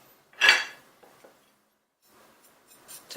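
A single bright clink of utensil against a plate, followed by soft scraping and a faint clatter, as julienned garlic is moved from a cutting board onto a plate.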